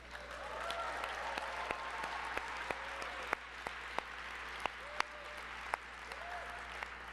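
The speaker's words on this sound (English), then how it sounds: "let's just give another round of applause to David Murray." An audience at a literary awards benefit gala claps steadily, a dense patter of many hands at moderate distance, with a few louder individual claps standing out.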